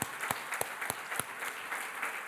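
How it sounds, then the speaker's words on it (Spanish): Faint, distant applause fills a church service, a soft wash of clapping with a few sharper individual claps standing out. No voices are heard. "Le damos un aplauso al Señor."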